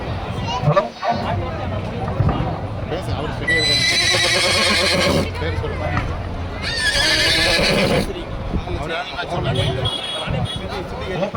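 A Marwari stallion at the Anthiyur temple chariot festival horse show whinnies loudly twice, each long shrill neigh cutting through the murmur of a crowd and nearby talking.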